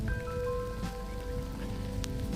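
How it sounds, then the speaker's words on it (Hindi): Rain falls during sunshine over a pond in Sheikh Badin National Park, a steady, dense patter that holds evenly throughout with no voices. "ये देख रहे हैं धूप भी है और बारिश भी है।"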